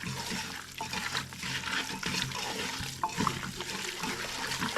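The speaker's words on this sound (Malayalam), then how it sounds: "ഈ വേകാൻ ആവശ്യമായ വെള്ളം ഒഴിച്ച് നമുക്ക് കുക്കറിൽ ഇട്ട് വേവിച്ചെടുക്കാം." Water pours and splashes into a beef biryani mixture made with ration rice, seasoned with chilli powder, turmeric and meat masala, for cooking in a pressure cooker. The steady, close splashing and trickling runs throughout at moderate volume, with no talking.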